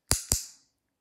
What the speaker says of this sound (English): So this is a clicker.